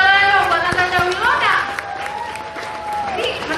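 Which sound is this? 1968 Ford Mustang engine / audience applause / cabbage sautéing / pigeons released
audience applause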